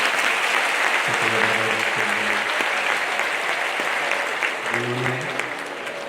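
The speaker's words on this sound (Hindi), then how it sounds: "एक बार जोरदार ताली बजाकर" A large crowd claps loudly and continuously at a Hindu religious discourse, sustained applause throughout with someone speaking over it through a sound system.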